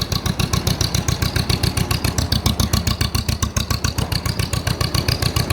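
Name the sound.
1948 John Deere M tractor engine running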